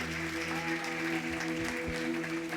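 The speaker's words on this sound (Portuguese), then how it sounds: "aplauda ao Senhor aí pela sua vida" A church congregation applauds during a sermon, producing a soft, continuous patter of clapping that sits low beneath a humming, reverberant room tone.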